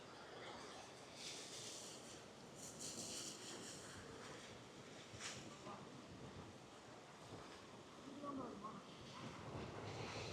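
Sea breeze blowing across the old port jetty in Pondicherry, a steady broadband rush of wind with surf-like swells and occasional gusts buffeting the microphone, continuous throughout.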